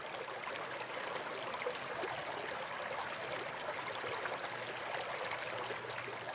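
A small stream flows steadily over stones, a continuous close-up rush and trickle of water that holds an even level throughout, with no voices.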